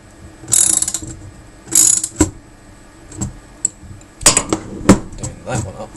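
Bolts and nuts get tightened on a RepRap Huxley 3D printer frame, with several sharp bursts of ratcheting clicks, close and loud, separated by brief pauses.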